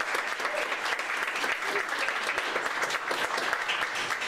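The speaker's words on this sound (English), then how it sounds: "So if you guys wouldn't mind giving these guys a round of applause." Audience members at an Anchorage science pub give a round of applause, a continuous, even patter of many hands clapping at moderate volume throughout, with no talking over it.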